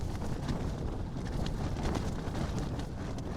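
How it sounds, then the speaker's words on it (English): Steady, blustery wind roars and buffets a tent on a mountain in the Black Mountains continuously, with a low rumbling and fabric-like flutter throughout, close and loud. "In a windy tent."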